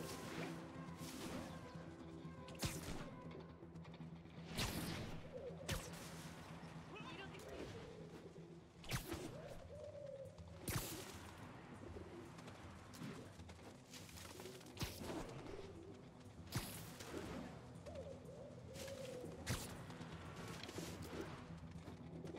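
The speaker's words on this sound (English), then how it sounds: "I have to chase pigeons." Pigeons coo in Marvel's Spider-Man video game, soft low calls repeating amid steady game ambience, sharp whooshes and impact hits.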